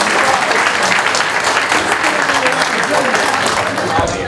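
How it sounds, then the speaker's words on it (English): Loud, sustained applause for Mr. Lee Smart at the Wightlink Warriors end-of-season awards night on the Isle of Wight, a thick wash of many hands clapping close by with voices mixed in. "Ladies and gentlemen, Mr. Lee Smart, give him a round of applause."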